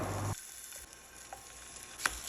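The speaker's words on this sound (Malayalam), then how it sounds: "ഇനി നമുക്കൊരു പാൻ എടുത്ത് അതിലോട്ട് വെളിച്ചെണ്ണ ഒഴിച്ച് നമുക്ക് ഫ്രൈ ചെയ്തെടുക്കാം" Brinjal pieces frying in coconut oil in a pan on a low flame, a quiet steady sizzle with a few soft ticks and pops after a brief louder rush at the start.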